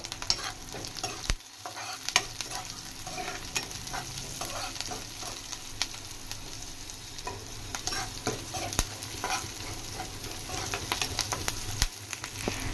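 Green chillies and curry leaves frying in oil in a pan, a steady crackling sizzle with sharp pops and spatters, plus occasional stirring taps, close and without speech.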